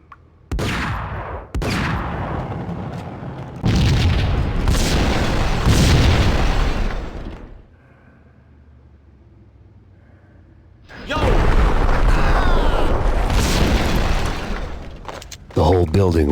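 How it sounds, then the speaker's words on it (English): A building rigged with explosives blowing up in Max Payne, loud sustained booms and crackling blasts in two long waves separated by a quiet gap, with speech mixed in. "The whole building was rigged with explosives."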